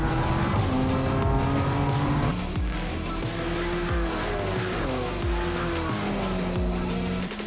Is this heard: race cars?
yes